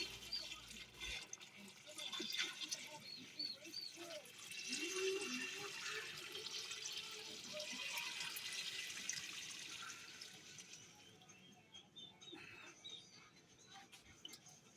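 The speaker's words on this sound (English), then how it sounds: "It's not completely cool, but I'm going to pour it over the pickles." Warm salt brine pours from a pot over pickles in a kitchen, a steady splashing, trickling flow lasting throughout, loudest in the middle and tapering off toward the end.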